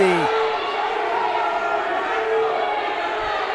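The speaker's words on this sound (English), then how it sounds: "listen to that crowd. The Noblesville bench is going crazy" A crowd and team bench roar at a high school varsity wrestling match between Westfield and Noblesville, a sustained, loud cheering swell filling the gym, with a commentator talking over it.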